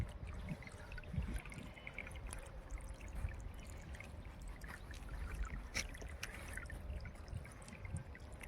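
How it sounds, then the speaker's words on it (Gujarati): Irrigation water runs steadily into an onion field in a village farm, a continuous broad rushing and trickling wash without pause, fairly close and moderately loud. "આપણે ડુંગળીમાં પાણી ચાલુ કીધું હે"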